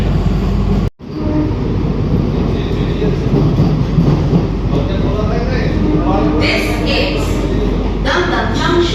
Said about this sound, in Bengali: ট্রেন ঢুকলো এই মুহূর্তে দমদম জংশন রেল স্টেশনে।